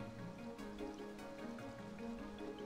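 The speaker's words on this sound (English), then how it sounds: "It's raining." Steady rain patters and drips on a surface, an even, continuous hiss with faint scattered drops, fairly quiet and with no voices.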